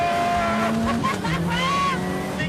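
1980s Renault Super 5 GT Turbo hatchback revving and accelerating, a loud close engine note with rising and falling pitch sweeps.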